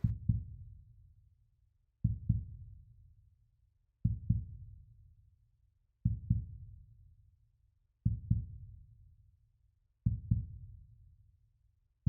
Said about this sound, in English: if you listen closely, there is a heartbeat that beats for those who've lost their lives here